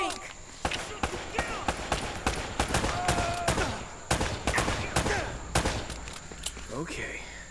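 Rapid gunfire from the video game Uncharted, a dense spread of sharp shots and bursts that repeat throughout at moderate loudness, with voices talking over the firefight.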